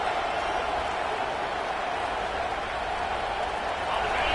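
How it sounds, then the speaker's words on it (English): Football stadium crowd at an Ohio State versus Texas A&M game roaring, a dense, steady wash of loud noise with no breaks, broad and distant-sounding, building slightly at the end. "It's early, but this crowd is fired up. Listen to this noise here."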